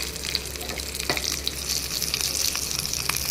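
Cumin-fenugreek powder tempering hisses in a pan of hot oil with green chillies and curry leaves for coconut chutney, a steady close crackling sizzle with faint pops throughout.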